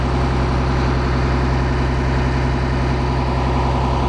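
A 2005 Blue Bird All American school bus's Cummins 8.3 liter turbo diesel idles with a loud, close, unbroken low drone that stays steady throughout, with no voices.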